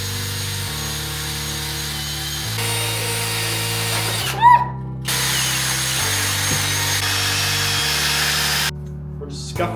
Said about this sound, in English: We're just scuffing the front end because then when we put the front end back together, it's done.